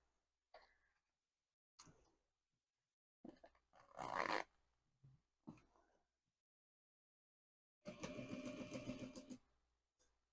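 A Hikari industrial sewing machine, not a walking-foot model, runs in short separate bursts of stitching, the longest and loudest near the end, with quiet gaps between and faint handling clicks.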